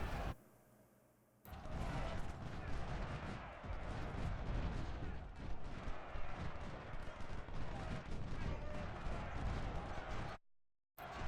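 Dense, continuous musket and cannon fire from the Civil War strategy game Ultimate General: Civil War rumbles in overlapping volleys for several seconds after a quiet start, then cuts abruptly to silence.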